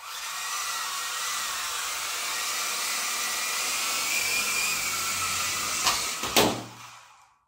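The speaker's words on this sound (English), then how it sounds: "the extra pitch I've put into those blades has done the job, given it enough to get it off the ground" Rotor of a Lucky Boy 9953 49 MHz RC helicopter fitted with 3D printed, extra-pitch blades spinning indoors: a steady, close whirring drone that holds for about six seconds, then a couple of knocks before it winds down and stops.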